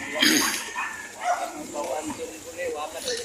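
A few short dog barks and yips sound at a moderate distance, mixed with background chatter and outdoor noise.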